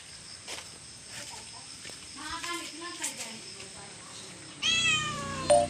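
A cat gives a few short meows in a rural countryside setting, moderately near, with faint background voices and some rustling, louder meow bursts near the end.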